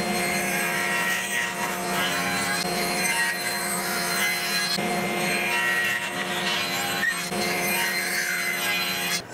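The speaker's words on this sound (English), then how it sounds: "we're going to run the blanks through here and then flip them over and cut them from the other side just to rip them down to 7/16 of an inch thick" Table saw ripping wooden blanks down to 7/16 inch thick, a loud continuous whine and rasping cut with slight surges as the stock feeds through the blade, no voices.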